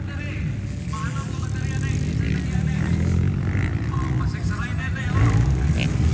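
An enduro motorcycle engine revving during a local race final heat, a rough droning roar with shifting pitch heard under excited shouting and talk throughout.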